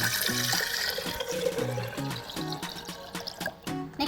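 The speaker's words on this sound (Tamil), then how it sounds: "ஸோ ஃபர்ஸ்ட் நம்மளோட டீக்கு தேவையான தண்ணியை ஊற்றிடலாம்." About 450 to 500 ml of water pours into a pot for peach green tea, a continuous splashing stream that gurgles and varies in pitch as the vessel fills.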